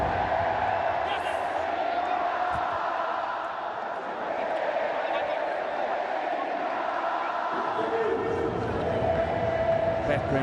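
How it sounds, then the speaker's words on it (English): A large, faithful cricket crowd at an India versus New Zealand match sings in a steady, dense roar that fills the whole stretch at a distance, with a commentator's voice talking over it. "you may well be able to hear the singing of this very, very faithful crowd"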